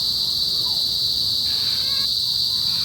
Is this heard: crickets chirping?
yes